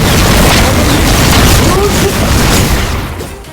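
Skill attacks fire in a Roblox Blox Fruits dungeon, loud, dense booms and explosive bursts merging into a continuous roar with no clear individual hits, while people talk over it.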